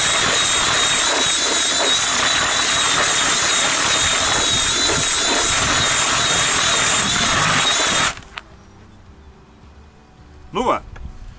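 A drill-driven mixer spinning fishing groundbait with a little added water, a loud continuous mechanical whir for about eight seconds, then stopping abruptly, followed by quiet room noise and a brief voice.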